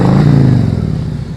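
A motorcycle engine runs steadily and loud up close during a slow-speed riding practice drill, a constant mid-pitched drone that eases slightly toward the end, with no talk over it.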